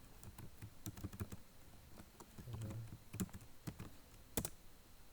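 A computer keyboard clacks out a short burst of typing, irregular key taps close and quiet, with a brief soft murmur midway.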